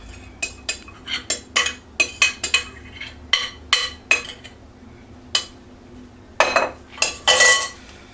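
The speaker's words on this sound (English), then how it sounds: "We're going to mix it all together." Cornbread turkey dressing mixture being mixed in a bowl, with a string of sharp clinks and scrapes against the dish, irregular and close, some clustered in quick bursts, no talking.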